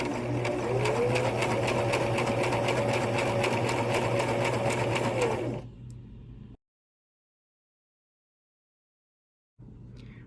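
A sewing machine stitching fabric at a quarter-inch seam gives a close, steady mechanical whir with a fast repetitive needle clatter for several seconds, then stops into silence before briefly starting again.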